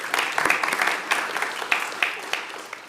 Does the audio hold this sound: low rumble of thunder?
no